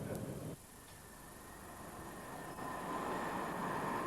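A train runs past a modern mainline signal on the Southern Rail main line, giving a steady, loud broadband rumble and hiss that dips briefly, then builds and holds strong as the train goes by.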